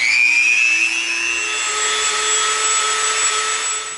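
Heat gun blowing hot air over EVA foam to heat seal it, a steady loud whooshing hiss with a high whine that rises then holds for the full stretch, no talking.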